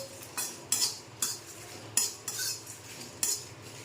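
Spices being lightly roasted in a pan are stirred continuously, with a rhythm of quiet, distinct scraping strokes of a spoon against the pan roughly every half second over faint background hiss.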